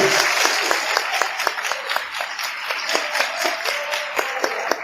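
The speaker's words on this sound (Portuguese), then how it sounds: "Aplauda o Senhor nesta manhã." A church congregation applauds steadily during a Sunday morning service, with dense clapping and a few individual sharp hand claps standing out, moderately loud and sustained throughout.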